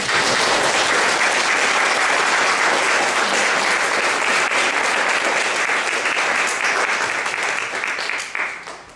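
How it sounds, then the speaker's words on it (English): An audience at a Wooster bicentennial time capsule event applauds the volunteers, giving a dense, loud, sustained round of clapping that carries on for several seconds before starting to taper off at the end. "help give an applause to all of the bicentennial volunteers"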